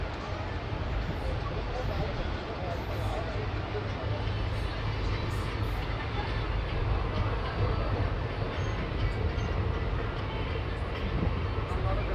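The Katwa–Nimtita passenger train rolls into a station with a steady, loud, unbroken rumble of wheels and carriages, faint voices mixed in beneath.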